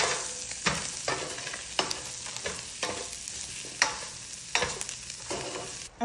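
Mushrooms being stirred in a pan for fettuccine, with repeated scraping strokes of a utensil over a steady soft sizzle, close and moderately quiet, with no voices.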